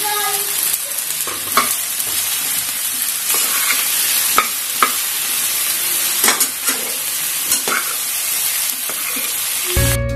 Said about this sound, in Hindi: मेरा तेल जो है ये बहुत गर्म हो गया था, इसलिए मैंने अदरक में डाला